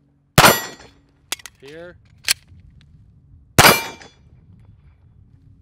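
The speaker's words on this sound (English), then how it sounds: "when I put the mag in the gun, the slide went home. It happens a lot on this Glock 45" Glock 45 pistol: two sharp, close metallic clacks a few seconds apart as the magazine goes in and the slide slams home, with a brief voice and small clicks between.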